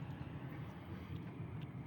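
Super Air Jet airliner passing at a distance, a faint, steady low engine rumble that holds evenly across the short stretch, with no talk.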